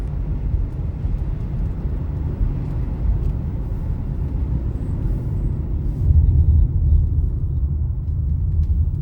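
A car is driven along a narrow country road in County Wexford, Ireland, with lanes about two metres wide. A steady low engine and tyre rumble runs throughout and swells slightly near the end, with no voices.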